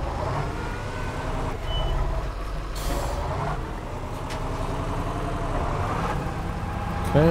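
Heavy logging truck in the Spintires video game, engine rumbling steadily with air brake hisses and a squeak of machinery, no talk over it.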